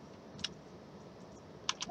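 A few sparse keystrokes on a computer keyboard while programming a Commodore 64 game in the VICE emulator: single clicks near the start and a quick pair near the end, over faint steady background hiss.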